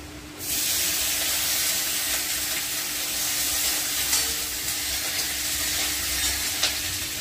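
Garlic and onion fry in a hot pan for chilli chicken, giving a loud, continuous close-up sizzle and hiss that starts abruptly and holds steady throughout.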